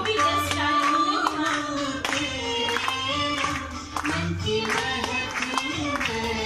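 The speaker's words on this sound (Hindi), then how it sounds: "वहां मौजूद हर किसी ने तालियों की गड़गड़ाहट के साथ उनका स्वागत किया" Hand clapping from an audience welcoming a guest onto the stage at a Brahma Kumaris honouring event, steady and sustained throughout, blended with music-like tones and background voices.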